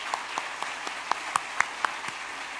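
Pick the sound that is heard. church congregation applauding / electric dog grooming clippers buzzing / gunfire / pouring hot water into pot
church congregation applauding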